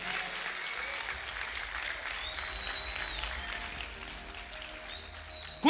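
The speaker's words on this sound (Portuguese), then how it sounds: "Quem pode aplaudir o Senhor Jesus?" Church congregation applauding during a sermon, a broad steady wash of clapping heard through a room, with a few faint tones over it and a sudden loud bump at the very end.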